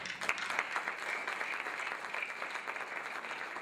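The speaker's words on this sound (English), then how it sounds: "Let me ask for a round of applause for them." An audience at a panel discussion on correctional policy and legislation applauds the speakers and panelists, a soft, steady patter of clapping heard from some distance for several seconds.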